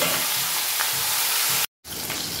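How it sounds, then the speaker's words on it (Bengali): A hilsa fish head and tail fry in hot oil in a kadai for moong dal, a loud close continuous sizzle that cuts out briefly before resuming. "মুগ ডালের জন্য যে মাছের মাথাটা ভাজা হয়ে গেছে"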